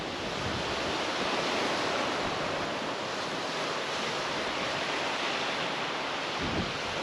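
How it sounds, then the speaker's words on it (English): Constant wind roars across the microphone at the seashore at Fowlers Bay, South Australia, a broad, unbroken rushing noise with faint surf beneath it and no voices. "Really weedy, windy day."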